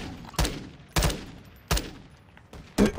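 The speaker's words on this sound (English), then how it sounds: "I'm getting shot from behind." Gunfire in Call of Duty: Warzone 2, four sharp, separate bursts spaced roughly half a second to a second apart, loud and close against quiet background noise.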